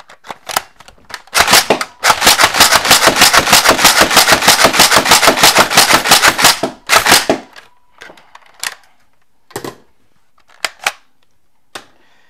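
Zuru Longshot toy blaster firing in slam fire mode, a rapid loud burst of dozens of sharp clacking shots over about five seconds, followed by a few scattered isolated clicks and mechanical snaps.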